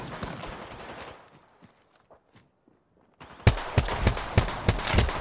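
Bursts of gunfire in the video game Apex Legends, several sharp loud shots in an uneven rapid series after a quieter stretch of faint footsteps and movement.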